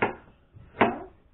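Two separate knife chops through an onion in a home kitchen while cooking Nepali-style chicken, each a short crisp strike, close and fairly quiet.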